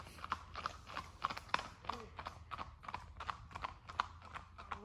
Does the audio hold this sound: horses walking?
yes